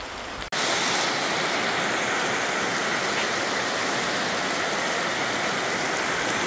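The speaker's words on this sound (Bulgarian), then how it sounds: "Завалява малко дъжда." Light rain falling on a small island road, steady broadband hiss after a brief quieter start, constant and close with no talking.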